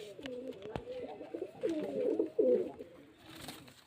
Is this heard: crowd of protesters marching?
no